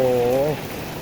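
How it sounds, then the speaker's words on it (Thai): Rain falls outside in a village neighbourhood, heard from under an umbrella as a brief, steady hiss that continues after a voice ends. "กลางร่มมาเพราะว่าฝนตกนะครับตอนนี้"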